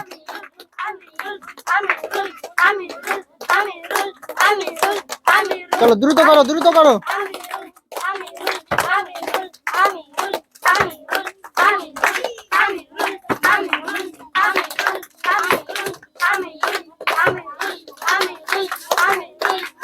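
Brisk rhythmic clapping from a group of people at a bottle flip challenge between two brothers, steady and close, with excited voices and a child calling out over the claps.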